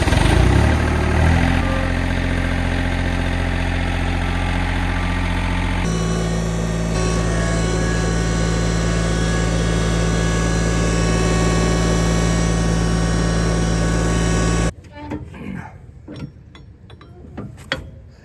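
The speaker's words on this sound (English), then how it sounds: "Let's back the tractor out." Vintage John Deere tractor engine running steadily and loud up close, a mechanical idle with a gear-like clatter for about fifteen seconds before it drops away to quieter, scattered knocks.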